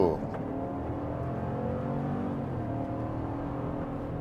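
A 2023 GMC Sierra AT4 pickup truck launches hard from a brake boost in normal mode and auto, with a steady engine roar building during the 0 to 60 run, and a voice briefly heard over it near the start.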